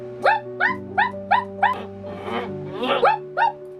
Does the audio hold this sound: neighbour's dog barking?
yes